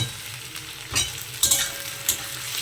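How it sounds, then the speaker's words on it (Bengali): Tomatoes frying with already browned onions in a pan, a steady close sizzle broken by a few scraping spatula stirs. "এই টমেটোগুলো দিয়ে ভালো করে ভাজতে থাকবো।"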